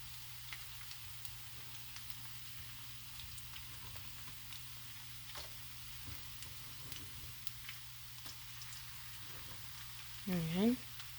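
Onions frying in a pan for a simple Filipino home dish give a steady, close sizzle that runs the whole time, with a brief louder burst of sound near the end.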